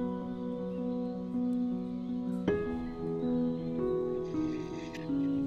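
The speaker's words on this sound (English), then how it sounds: "We later discovered that this was a three-wattled bellbird" A three-wattled bellbird in Costa Rican cloud forest gives a sharp metallic, screeching call with ringing tones, heard at moderate distance over faint forest background.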